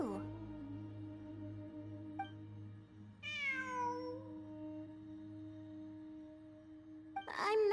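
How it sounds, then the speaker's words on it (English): A cat meows in Genshin Impact, a drawn-out rising-then-falling call in the middle of the clip with a shorter cry near the end, heard over steady game background music. "It really is a cat."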